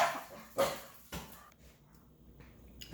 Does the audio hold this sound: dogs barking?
yes